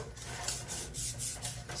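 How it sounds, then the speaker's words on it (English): A spoon scrapes dark chocolate cream pie filling from the sides and bottom of a bowl, a close, continuous rasping rub with a few heavier strokes over about two seconds. "Scrape it all out of the bowl."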